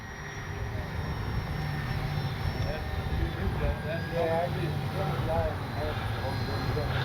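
An FMS Cessna 182 radio-controlled model plane flies inverted, its electric motor a steady, fairly distant whine with a broad wind-like rush and slight pitch wavering throughout.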